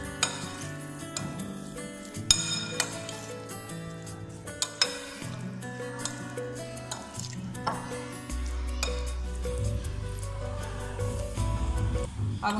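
Spices being mixed into a chicken shawarma marinade with soy sauce: a spoon clinks and scrapes against a bowl in scattered strikes over soft squishing, with background music and no talk.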